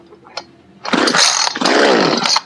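A small two-stroke engine being fed Cerma 2-cycle oil catches after the choke is pulled. A few faint clicks and knocks come first, then a loud, close, buzzing idle that wavers briefly before running on, with no talk.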